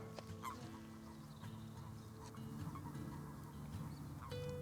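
A chorus of frogs croaking in honking, duck-like calls, overlapping continuously at a moderate distance with steady background noise.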